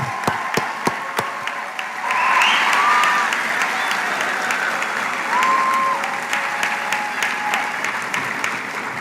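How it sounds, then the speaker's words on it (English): Sustained audience applause fills a white coat ceremony at an osteopathic medical college in Louisiana as student doctors stand, opening with scattered sharp claps and swelling into a steady ovation with faint voices beneath. "we can give them applause"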